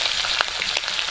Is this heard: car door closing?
no